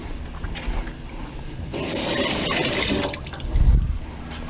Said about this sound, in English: I got some baby bella mushrooms. Give them a quick rinse.